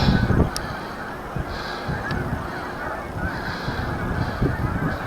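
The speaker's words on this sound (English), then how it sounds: "Why were all the geese flying away over here?" Geese honk in bursts at a middle distance against a steady rumbling background, the calls coming and going irregularly.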